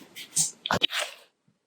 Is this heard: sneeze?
yes